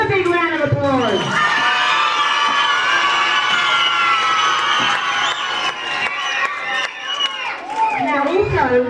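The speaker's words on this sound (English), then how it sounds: "So let's give him a big round of applause." An audience at a school reading contest cheers and shouts loudly, children's voices whooping and yelling in a sustained crowd roar lasting several seconds, with some clapping mixed in.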